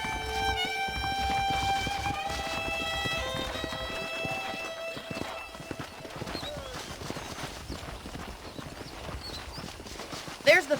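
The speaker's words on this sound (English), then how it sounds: "The horses are saddled up over here." Horse hooves clip-clopping at a steady trot in Red Dead Redemption, alongside musical tones, with a burst of louder noise near the end.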